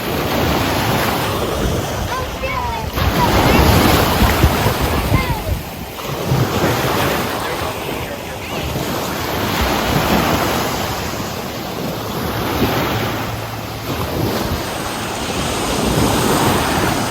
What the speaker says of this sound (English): We want to check out the beach that's right in front of our door.